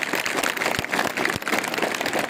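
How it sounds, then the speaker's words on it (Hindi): An audience at a digital literacy awareness seminar applauds in a steady, continuous patter of many hands throughout, fairly loud and without a break. "तो मैं एक बार आप जोरदार फिर से तालियां बजाएंगे"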